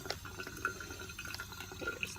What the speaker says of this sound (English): we've got the water flowing through, and also going down into the sink